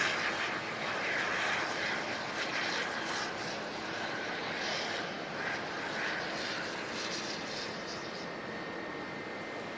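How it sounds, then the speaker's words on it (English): A Jetstar airliner bound for Christchurch starts its engines at Auckland Airport on a foggy day, giving a steady, loud broadband roar with a high whine that holds constant throughout, with no talk over it. "Jetstar flight to Christchurch is just starting up."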